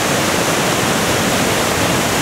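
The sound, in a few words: waterfall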